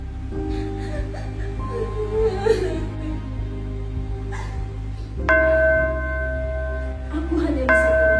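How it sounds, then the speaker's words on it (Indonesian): Church bells ring out loud and sustained with long overlapping tones, a fresh bell stroke entering around five seconds in and another near the end, over a dense background murmur. "Aku hanya bisa termenung dan mendengarkan suara lonceng gereja."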